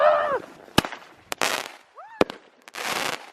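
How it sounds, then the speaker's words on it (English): Fireworks are set off in Moscow: sharp bangs and cracks, rising whistles and crackling bursts follow one another close by in an irregular sequence. "I got to set off fireworks legally."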